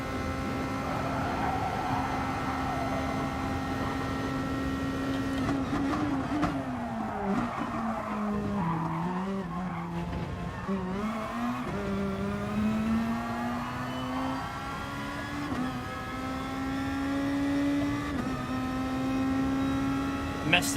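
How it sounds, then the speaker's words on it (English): Race car in the GT Sport video game, engine revving and dropping in pitch through trail braking and downshifts, with tire squeal, steady and loud under a voice talking. "A lot of it's just how you trail brake and downshifting as well."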